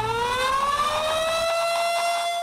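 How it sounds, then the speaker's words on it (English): An outdoor tornado warning siren in Mobile County wails loudly and steadily with a rising, sustained tone that swells across the whole stretch, with no voices over it. "you've probably heard them, the wailing of the warning sirens"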